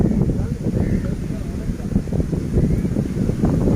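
Strong wind at a Diamond Harbour riverside park, with waves nearby: constant loud, rumbling gusts buffet the microphone, blended with low water wash and no clear gaps.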